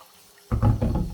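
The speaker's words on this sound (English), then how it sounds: "when you see the water that is flowing in the sink, it's too oily." Tap water runs into a kitchen sink while fish is washed, a steady close splashing flow that starts abruptly after a quiet moment and keeps going loudly.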